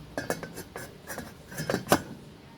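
Metal lid clinking back onto a cooking pot of salmon sinigang with calamansi and okra, a few light clanks and rattles, close and fairly soft, the last clink the loudest.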